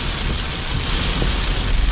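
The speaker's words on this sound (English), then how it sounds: "today, and actually even last night, it was raining heavily" Dense, steady heavy rain hisses close by at Red Lotus Lake, Udon Thani, Thailand, with a broad wash of noise and some low rumbling gusts underneath.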